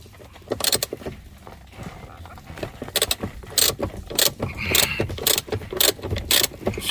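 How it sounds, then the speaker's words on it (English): A 13 mm socket wrench ratchets on a Mercedes W210 in a dim garage, giving repeated bursts of sharp close clicking, irregular at first, then faster and steadier. "Using 13 millimeters wrench or 13 millimeters socket wrench"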